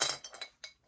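A pair of designer scissors clinks against a small glass jar in a few quick, faint, bright taps spread over less than a second, with no talking.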